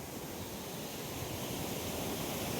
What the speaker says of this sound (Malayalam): മലനിരകളിൽ കൂടെ ഇങ്ങനെ ഒഴുകി വരുന്ന വെള്ളം